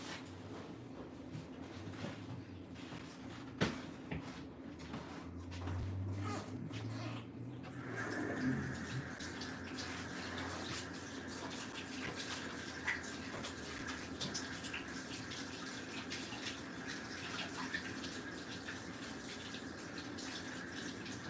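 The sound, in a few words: water running from a tap for hand washing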